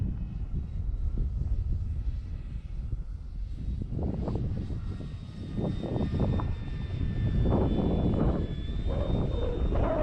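An E-flite Draco RC airplane flies overhead, its steady engine drone rising and falling in pitch as it passes, with a continuous whine and wind noise throughout, no talking.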